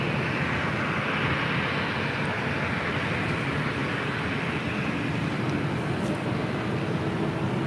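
Steady, loud broadband roar of a Delta heavy jet airliner spooling up for takeoff on runway 24 left at LAX, continuous and unbroken with no talk over it.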